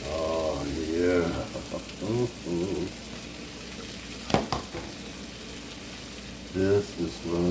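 Onion tails stirred into a thickened pasta sauce over low heat, a steady close sizzle and bubbling with a sharp clatter midway; a person talks over parts of it.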